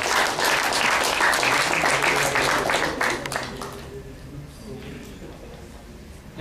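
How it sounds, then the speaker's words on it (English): Audience applause at a tech talk on performance testing, a thick burst of clapping for about three seconds that quickly tapers off into scattered claps and low room noise with faint voices. "Can we have a big round of applause for Rajat?"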